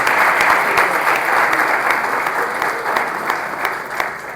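A loud, dense round of applause from an audience at a faith-and-business talk in Portuguese, continuous and close, tapering slightly toward the end.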